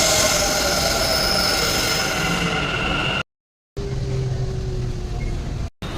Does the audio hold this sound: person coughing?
no